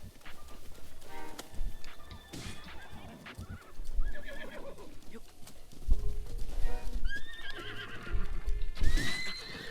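A horse neighs and whinnies repeatedly over rhythmic clip-clopping hooves in Breath of the Wild, mixed with combat sounds and game effects, while a player talks at times.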